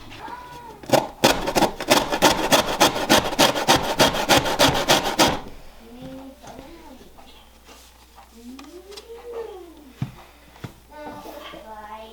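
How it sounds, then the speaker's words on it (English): An orange being rubbed against a handheld zester gives a dense, rhythmic rasping for about five seconds, fast strokes close to the mic, before it stops and a person talks over quieter kitchen sounds. "I need to grab an orange and my zester, and we're gonna put in a tablespoon of orange zest."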